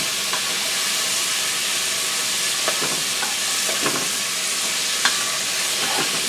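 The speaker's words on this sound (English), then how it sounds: "You just saute for a little bit." Chicken and peppers sizzle steadily in a hot pan, a constant hiss with occasional soft scraping and stirring, close and fairly loud, with no talking.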